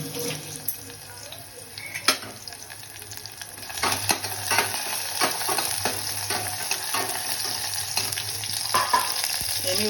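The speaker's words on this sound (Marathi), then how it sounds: "आता मी फोडणीला लसूण टाकणार आहे" Garlic hits hot oil for a Marathi prawn curry tempering, giving a dense, close sizzle and crackle that grows fuller midway, with scattered clinks and spoon scrapes and a faint high whine.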